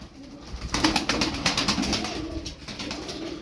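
Several tumbler pigeons coo steadily and close by, their soft throaty calls overlapping with a light rustle of wings and movement.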